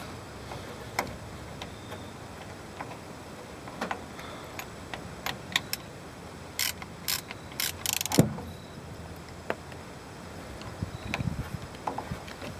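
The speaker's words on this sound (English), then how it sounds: "now we'll screw the fill plug back in. 15 pound-feet of torque" A differential fill plug being screwed back in and torqued to 15 pound-feet, heard as faint, sparse metallic ticks and ratcheting clicks in a quiet workshop, with a brief cluster of sharper clicks midway; no speech.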